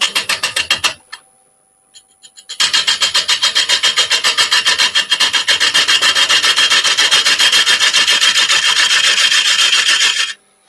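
A chunk of wet walnut spins on a wood lathe while a tool cuts it, making a fast, rhythmic scraping and rasping. The cutting stops briefly near the start, then continues loud and even.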